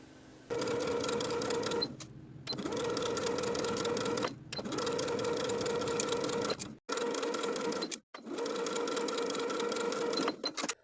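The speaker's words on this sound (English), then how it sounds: "we're going to sew around the neckline to attach the bias tape with a 3/8 inch seam allowance" A sewing machine runs in long steady bursts as it stitches bias tape around a garment neckline, with a few short pauses between runs and no talking.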